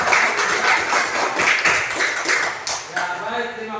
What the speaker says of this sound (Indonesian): Kita tepuk tangan lagi sekali untuk kita semua.